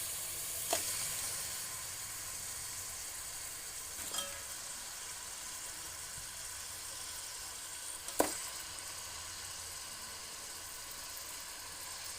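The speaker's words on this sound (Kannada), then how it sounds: "ಪಾತ್ರೆ ಕಾದಿದೆ ಎಣ್ಣೆ ಹಾಕ್ತಾಯಿದ್ದೀನಿ" Oil sizzles in a heated pan for a mutton gravy and pepper fry, a steady close hiss broken by three sharp metallic clinks spaced a few seconds apart.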